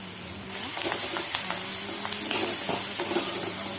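Turmeric and chilli powder being stirred with curry leaves in a hot frying pan for chappathi upma: a steady close sizzle with scattered scraping strokes of the spoon across the pan.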